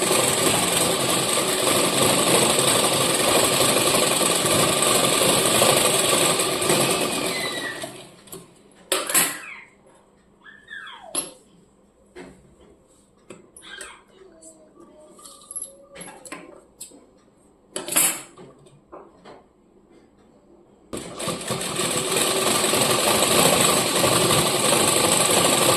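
A sewing machine stitches a pressed strip onto the front piece of a four-tuck blouse, running in a loud continuous whir at the start and again at the end, with quieter handling and clicks between the runs.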